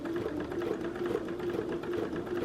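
A sewing machine stitching a quilt, its needle running at a rapid steady rhythm with a constant mechanical whir, close and moderately loud, with no voices.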